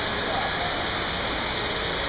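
An indoor waterfall inside a Bass Pro Shops store pours in a steady, dense broadband rush of falling water that stays even and fairly close throughout.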